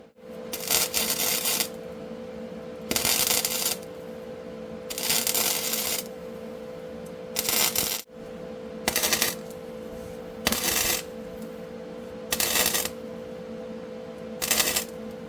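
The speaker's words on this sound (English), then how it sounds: "I'm melting the thicker metal first, and then I'm running that pool over into the thinner metal." Welding thick metal into thinner metal on a snowmobile repair: repeated bursts of crackling, sizzling arc, about eight short runs separated by pauses, close and fairly loud.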